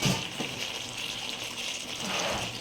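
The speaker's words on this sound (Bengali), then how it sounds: "এবার দেবো সামান্য পরিমাণে জল।" A little water pours into a pot of chicken curry with meat and potatoes, a steady soft gushing splash that runs throughout at moderate level.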